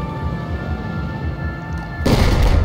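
A helicopter explodes in the video game Battlefield 4: a low steady engine drone runs for two seconds, then a loud, sudden boom bursts in near the end and keeps roaring.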